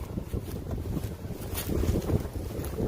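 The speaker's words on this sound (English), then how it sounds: "And the wind is back." Outdoor wind rumbles against the microphone in a steady, low, muffled wash with faint gusting swells, fairly quiet and without speech.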